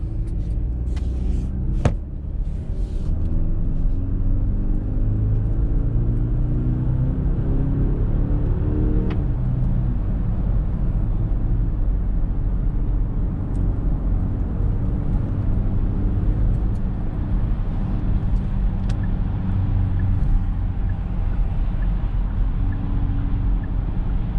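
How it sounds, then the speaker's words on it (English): A 2021 Genesis GV80 2.5T in sport mode accelerates onto the highway, its engine note climbing steadily in pitch over a constant road and cabin rumble, with no talking. "Engine is nice and responsive"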